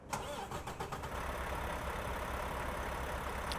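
A Mack Anthem truck with a 415 hp engine in American Truck Simulator cranks with rapid starter clicks, then settles into a steady, low diesel idle, close and continuous.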